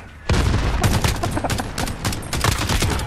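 Gunfire in the shooter game Modern Warfare, a dense loud stretch of rapid overlapping shots with barely any gaps, including pistol fire, close and continuous throughout.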